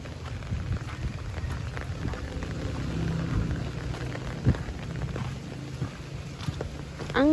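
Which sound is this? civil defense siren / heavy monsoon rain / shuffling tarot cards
heavy monsoon rain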